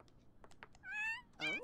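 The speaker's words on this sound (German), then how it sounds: "Das ist eine Katze." A cat meows in The Sims 4, two drawn-out, tonal calls in the second half, the second louder and wavering, following a stretch of soft game noise and murmuring.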